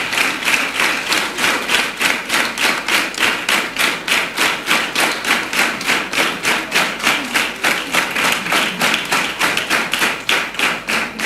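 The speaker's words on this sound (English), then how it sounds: "you clap for the opposers." A school debate audience claps for the winning opposers in a Tanzanian school competition, loud, tightly synchronized rhythmic clapping at a steady beat of about two claps per second, sustained without talk.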